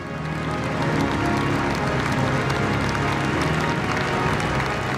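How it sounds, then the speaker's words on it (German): A congregation at a beatification Mass in Würzburg applauds for Georg Häfner, a dense, steady wash of many hands clapping that fills the whole stretch at an even, sustained loudness. "Was die Gemeinde mit langem Applaus honoriert"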